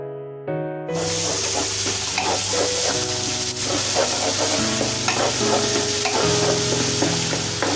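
Onions for Malabar chicken dum biryani fry in a pan with a loud, continuous sizzle and crackle, while tuneful background music plays throughout. No voices are heard.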